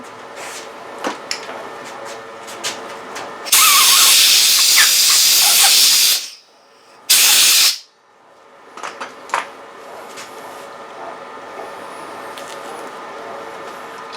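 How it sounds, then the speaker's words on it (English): An air compressor nozzle blasts dye residue off a figured wood surface in two loud hissing bursts, one long and one short, between quieter workshop handling noises. "we can take it off and use an air compressor to clean it up"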